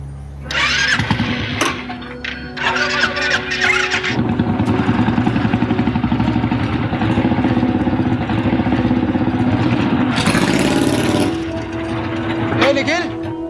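A new motorbike starts up and settles into a steady idle, its engine running continuously through the whole stretch with people talking over it and other busy background noise.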